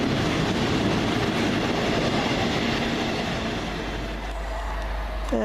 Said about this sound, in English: here comes our train nav here, 321-903, and this will be the 1623 to Leeds